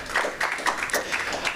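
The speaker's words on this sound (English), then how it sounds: "let's give a big applause to Capital Factory" Audience at a tech meetup applauding, a light, moderately close patter of individual claps with uneven rhythm, fairly quiet and brief.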